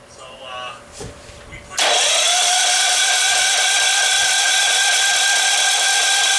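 A gasoline generator that has sat unused for two years is pulled over on choke, then catches at once and settles into a loud, steady, close-up engine run with a high whine.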